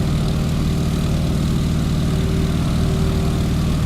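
A Stearman biplane's radial engine roars at full power during takeoff in the MS Flight game, a loud, steady propeller drone with a deep throbbing low end, continuous and without talk.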